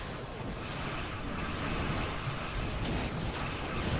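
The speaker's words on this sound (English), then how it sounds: "There's many plasma torpedoes going off next to me." Plasma torpedoes detonating around a starship in Star Trek Online, a continuous roaring rumble of overlapping blasts that stays loud and dense throughout, swelling slightly toward the end.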